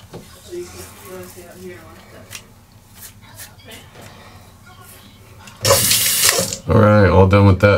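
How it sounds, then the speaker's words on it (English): Hot water runs from a tap over a Gillette Fusion 5 Power razor. After quiet, indistinct sounds, two loud, close bursts of splashing arrive near the end. "Get some hot water on my Fusion 5 Power."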